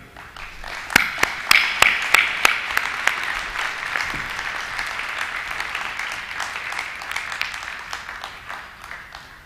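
Audience applause welcoming a lecturer to the stage, starting with a few sharp distinct claps that swell into steady, sustained clapping from a seated crowd for several seconds.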